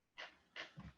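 A dog named Indy pants close by, two quick breathy huffs followed by a softer, lower breath, faint and brief.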